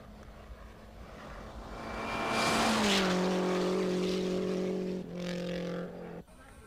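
Race cars speeding along a straight section of a rally course at around 200 km/h. A single engine whine rises and then drops as the car passes close by, with a steady roar and a shift in pitch near the end.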